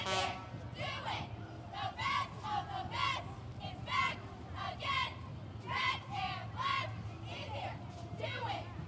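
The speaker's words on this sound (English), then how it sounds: "And they are just chanting away." A red-and-black cheer squad at a Fourth of July parade chants in rhythmic, repeated shouted phrases, moderately distant, over a continuous crowd murmur.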